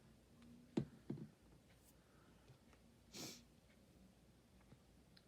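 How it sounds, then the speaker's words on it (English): Several sharp nasal sniffs, two close together early and another a couple of seconds later, quiet and close with low background noise. "Please excuse my sniffling"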